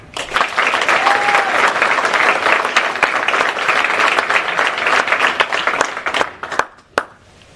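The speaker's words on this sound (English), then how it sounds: "Please join me in a round of applause" Round of applause at a military NCO Academy assumption of responsibility ceremony, a loud, sustained roar of many hands clapping that thins out toward the end into a few scattered final claps.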